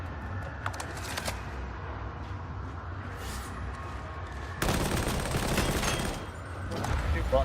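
A heavy stubber machine gun in the video game Darktide fires in a dense, rapid stream, loud and close, with a sharp jump in intensity partway through as the rate picks up.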